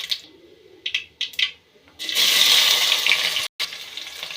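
Mustard seeds dropped into hot oil in a pan, a few short taps and then a dense sustained crackling sizzle that cuts briefly and resumes, near and fairly loud, with no voices.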